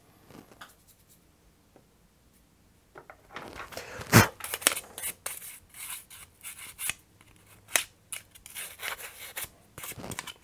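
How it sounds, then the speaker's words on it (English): Scraping old, crumbling glue off an original Game Boy part with a chisel-style hobby knife: quiet stretch early on, then a run of close, sharp scratching strokes with irregular pauses. "I like to clean that up with a chisel style hobby knife"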